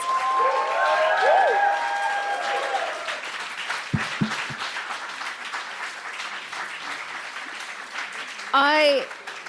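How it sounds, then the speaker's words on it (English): Audience applause and cheering fill a live event for peace, a dense steady clatter of clapping that holds throughout, with a voice-like tonal swell near the start and a brief whoop-like burst near the end. "all you've been hearing is applause throughout the entire event"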